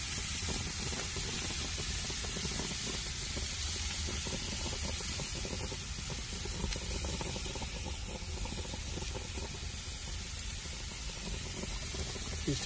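Hamburgers, including Cajun burgers, sizzling on a grill heated to about 600 degrees, a steady, dense, hissing crackle that holds evenly throughout at moderate distance with no talking.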